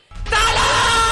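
A voice imitates a man screaming in pain, one loud sustained strained scream that bursts in sharply and holds steady to the end.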